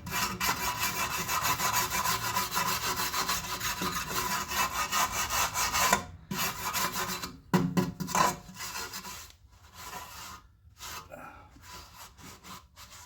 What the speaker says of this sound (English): Oh, scrape some of this off.